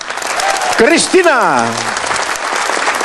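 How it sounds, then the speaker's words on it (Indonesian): A studio audience at an Indonesian television celebrity show applauds a guest star while the host speaks loudly over it, the clapping forming a steady wash beneath a voice that rises and slides. "tepuk tangan semeriah-meriahnya untuk Yon"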